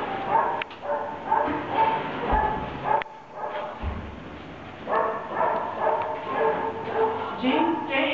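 Dogs awaiting adoption at a shelter bark and yip repeatedly nearby, the barks echoing in an enclosed space, while a person talks over them.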